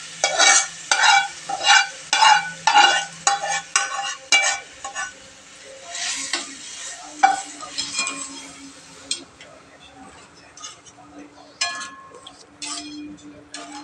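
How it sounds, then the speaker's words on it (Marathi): Moth bean stock goes into frying masala for Kolhapuri misal, with rhythmic spoon stirring and clinks against the pot over a low sizzle, the scraping easing off toward the end. "तर आपला आपण मटकीचा स्टॉक ह्यामध्ये टाकून घेऊया"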